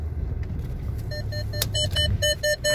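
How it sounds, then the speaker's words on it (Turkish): Parking sensor beeps inside a Maserati Quattroporte, a series of short evenly repeating tones that quicken toward the end, over a low steady engine and cabin hum. "aracın içerisindeki park sensörlerinin sesi gerçekten ses efekti olarak da nominal seviyede, rahatsız etmeden ortaya çıkıyor"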